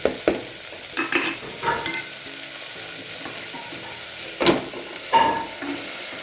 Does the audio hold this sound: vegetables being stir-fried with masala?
yes